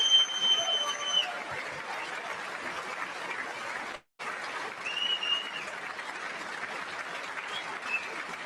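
An audience applauds steadily in a dense wash of clapping that cuts out for a brief instant midway, then resumes at a moderate, even level.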